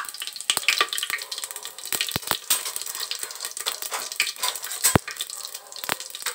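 Whole cloves, black peppercorns, bay leaves and cumin seeds hit hot oil in a pan for pulao, giving a close, continuous hiss of frying with scattered sharp crackles and pops.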